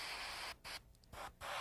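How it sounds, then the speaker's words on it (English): An airbrush sprays turquoise paint onto a fingernail in short hissing bursts, a soft, close, steady hiss broken by brief pauses. "Always start spraying off of your work."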